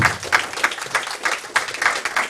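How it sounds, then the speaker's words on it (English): A crowd at a book launch breaks into rhythmic, unified clapping, beating together in a quick regular pulse for a couple of seconds, close and lively, with no voices. "Listen to the applause, Romaine."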